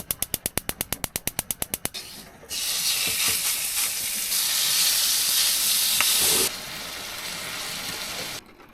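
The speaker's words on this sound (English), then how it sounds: "I'm going to try and make some burgers with bacon." Burgers and bacon frying in a pan inside a van, a steady loud sizzle that swells and holds for several seconds, preceded by a quick run of rhythmic mechanical clicks like an igniter.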